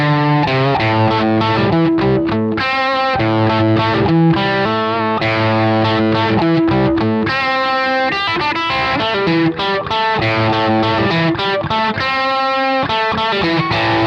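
Classic rock riff on distorted electric guitar played fast, loud and continuous with choppy palm-muted stabs and sustained chords, no voices.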